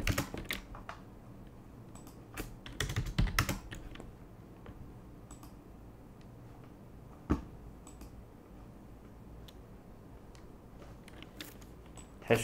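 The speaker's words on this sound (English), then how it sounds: "Then here I may just type 1080p." Keys clatter on a computer keyboard in close, irregular bursts of typing, busiest early on, then scattered single clicks over a quiet room.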